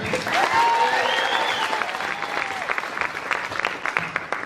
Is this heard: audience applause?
yes